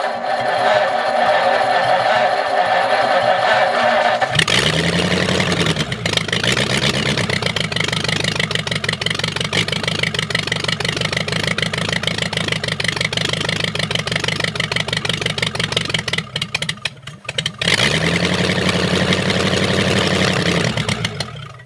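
A 1930 Ford Model A engine cranks and catches, then settles into a steady, loud mechanical idle with a ticking rhythm, dipping briefly near the end before picking back up.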